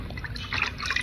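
Water is poured over lumps of clay soil to soak them for building a mud stove, giving close, splashy trickling and dripping sounds that grow livelier toward the end, with no talking.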